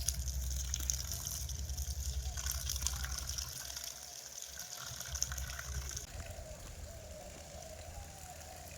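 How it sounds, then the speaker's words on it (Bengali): Water gushes steadily to irrigate a village potato field in the Sundarbans, a continuous pouring and splashing flow that stays fairly even throughout, with no talk over it. "সম্পূর্ণ সব পিলিতে সার দেওয়ার পরে কিন্তু তারপরে জল দেওয়া হচ্ছে, আর একেবারে বেশি করে জল দেওয়া হচ্ছে"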